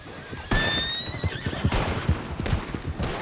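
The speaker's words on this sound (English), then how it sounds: "Get on the horse!" A horse in the western roleplay game WildRP gives a loud, close whinny, then trots off with a rhythmic clip-clop of hooves.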